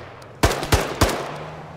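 Three sharp, loud gunshots fired in Arma 3 combat, spaced roughly a third of a second apart and close by, each with a booming low tail over a faint background hum.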